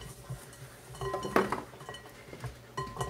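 Seasoned garlic scapes with salt and pepper are tossed in a bowl, giving quiet, scattered clinks of utensil against dish with one sharper knock in the middle.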